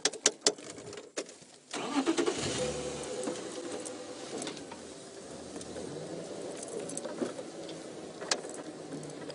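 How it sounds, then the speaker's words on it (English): A safari vehicle's engine starts up near a female leopard on an afternoon game drive, rising from quiet outdoor ambience into a steady close rumble that idles and moves off slightly, with insect-like patter and no talk. "she's far enough away from us that I can just move the car slightly"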